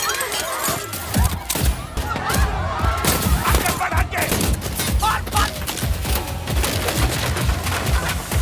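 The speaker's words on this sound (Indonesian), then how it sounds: "Di tengah baku tembak yang masih berlangsung, Abimanyu mendapatkan sedikit luka" Rapid bursts of gunfire crackle through a film shootout, dense and loud throughout, with heavy thuds and scattered impacts layered over a continuous rumble.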